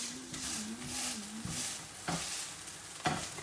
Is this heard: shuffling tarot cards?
no